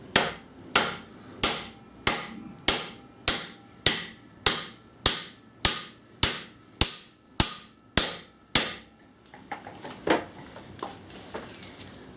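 A hammer taps a bearing into a VW Passat gearbox about a dozen times at a steady, even pace, each blow ringing sharply on metal, then lighter, quicker taps follow at the end.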